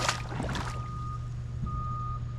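A vehicle's reversing alarm beeps in a steady tone while backing up on a field beside an Alabama creek, heard from a distance over constant low outdoor rumble and wind.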